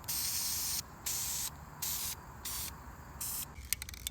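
A plastic spray paint can hisses in a series of short, steady bursts with brief pauses between them, fairly close, ending with a few small clicks.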